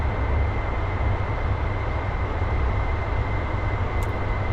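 An aircraft engine in a flight game holding a steady, loud, droning roar with a constant low rumble and a fixed tone, no clear rise in pitch, heard alone.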